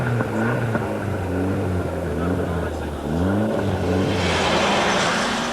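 A 300 brake horsepower Ford Escort rally car engine drones loudly, its pitch wavering and dropping before rising again, with a commentator's voice talking over the engine throughout.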